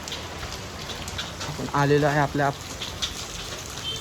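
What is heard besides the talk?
heavy rain falling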